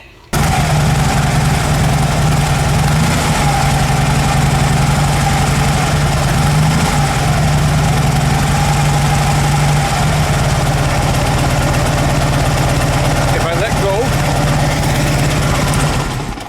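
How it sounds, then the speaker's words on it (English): A Harley-Davidson motorcycle engine that will not idle is held on the throttle and runs loudly and steadily close by the whole time, with a rough, throbbing mid-pitched drone and no clear stall. "I would have to keep the throttle on to keep it running"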